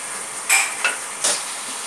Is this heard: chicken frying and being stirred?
yes